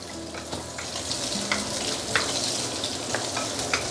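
Pork belly sizzles and fries in a pan on medium-high heat, a dense, steady crackle with sharp pops of spattering oil scattered throughout, close and fairly loud.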